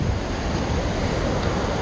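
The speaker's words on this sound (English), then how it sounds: "Water is flowing underneath us." Water rushes continuously beneath a bridge in New River Gorge National Park, a loud, steady broadband roar with some wind buffeting and no voices.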